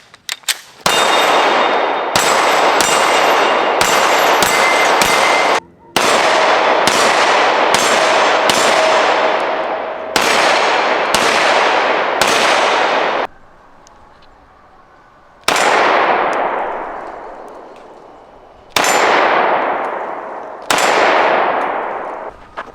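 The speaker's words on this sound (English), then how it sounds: "let's do 3 shots. I'm shooting at my Shooting Targets USA targets." P320 M17 pistol shots ring off steel targets, a long run of sharp cracks, each followed by a bright metallic clang that decays, fired in quick bursts with short pauses between.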